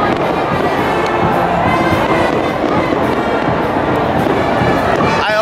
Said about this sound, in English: I always knew one day I would definitely see fireworks in Dominica.